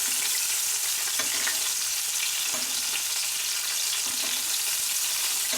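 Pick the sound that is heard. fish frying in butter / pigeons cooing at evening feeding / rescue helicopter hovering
fish frying in butter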